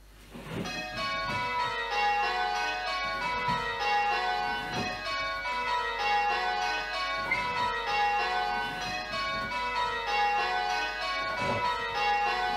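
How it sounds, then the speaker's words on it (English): Church bells rung on a home bell simulator, a steady cascade of bright, overlapping tuned strikes in a rhythmic change-ringing pattern, loud and continuous throughout with no talking. "I'm just going to do some ringing."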